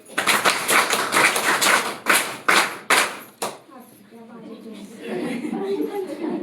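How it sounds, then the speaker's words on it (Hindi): A second round of clapping for a teacher by a group of schoolchildren, several ragged bursts that stop abruptly partway through, followed by quiet murmuring voices. "तो मैडम की ताली नहीं बजाओगे क्या?"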